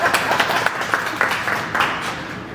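An audience at a business event breaks into a round of applause, a dense patter of many hands clapping at moderate loudness with scattered louder claps, alone without talk.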